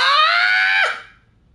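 A man gives an R2-D2-style electronic scream with his own voice, imitating the droid. It is a loud, tonal, high-pitched wail that holds steady, dips sharply and then fades into quiet.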